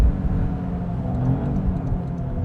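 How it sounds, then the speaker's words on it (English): A 2025 Toyota GR Corolla's engine pulls hard out of a corner, heard from inside as a loud, steady, deep rumble and whir that holds without a break. "And you've got a nice amount of thrust from this engine. We'll push hard out of this corner."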